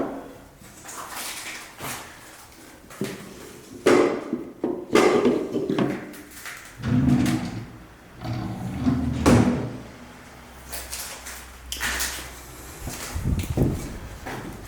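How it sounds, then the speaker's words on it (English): Footsteps crunching and scraping over broken ceramic bits inside an abandoned old villa, close and irregular, with several louder grinding steps and clattering shards and no talk over them. "I'm standing on all the bits of ceramic."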